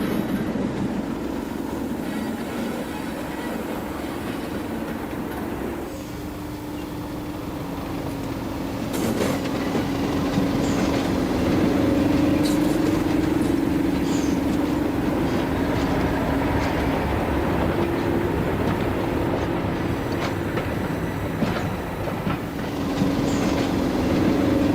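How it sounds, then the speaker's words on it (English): A model Class 37 locomotive and its train whir and click along the track into station lines, a steady mechanical hum with rail clatter that grows slightly louder as it approaches. "The 37 and its train arrive and run into the station lines"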